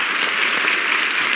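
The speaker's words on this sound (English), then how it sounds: "Let's have a great round of applause for these two ladies." A television game show studio audience claps steadily and loudly, a dense, even wash of applause with no voices.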